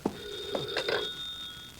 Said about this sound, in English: That's only the phone.